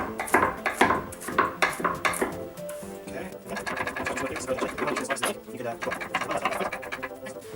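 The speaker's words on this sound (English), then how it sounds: "Now we're going to do a little bit of mincing" Rapid chopping of crushed garlic on a board in a home kitchen, a chef's knife striking in quick, steady clusters near the mic while someone talks over much of it.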